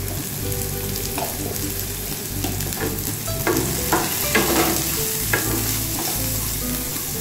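Pumpkin with turmeric fries in a pan, sizzling steadily and close over a low hum, with regular stirring scrapes and soft knocks of the spatula throughout.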